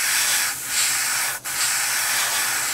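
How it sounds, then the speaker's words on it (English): An airbrush sprays paint onto a 1/35 scale Tamiya Panzer III Ausf.L model tank, a close steady hiss broken by a couple of brief pauses. "we could spray it at an angle, so it's just gonna touch one side of the edge"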